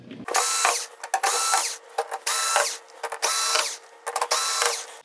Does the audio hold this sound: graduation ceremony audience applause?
no